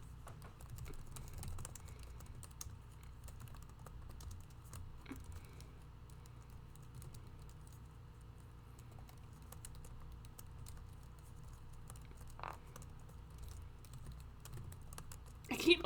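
Faint, continuous computer keyboard typing with light irregular key clicks over a low steady hum, no talking.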